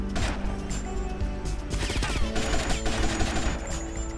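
Dense bursts of automatic gunfire and rapid shots in GTA Vice City crackle continuously, loud and close, with occasional crashing impacts mixed in.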